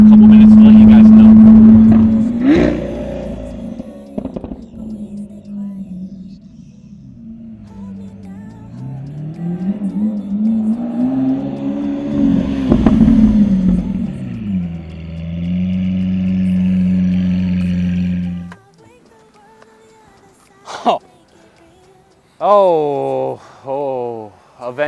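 Lamborghini Aventador S V12 driving up a parking garage, its engine droning and rising and falling through the ramps, echoing in the enclosed space. A deeper steady note follows, then it goes quiet apart from short revs.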